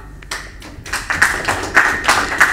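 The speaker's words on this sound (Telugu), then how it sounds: "మనందరం వారిని అభినందిద్దాం మన చప్పట్ల ద్వారా." Hands clapping in an audience at a Telugu public talk, a small, loose scatter of claps that starts sparse and becomes a steadier, uneven patter.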